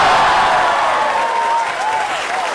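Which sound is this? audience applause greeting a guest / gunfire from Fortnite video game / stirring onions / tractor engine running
audience applause greeting a guest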